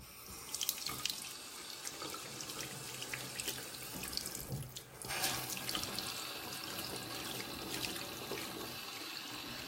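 Makeup brushes are rinsed under a running faucet into a sink, a steady hiss of flowing water with splashy, gurgling shifts as the brushes move through the stream, close and fairly quiet throughout.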